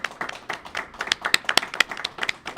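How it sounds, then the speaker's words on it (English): A small crowd of students at a 2019 student leadership council forum claps for the candidates, a short burst of scattered individual hand claps, fairly close and sparse rather than a full roar. "do we want to give a round of applause to our candidates first?"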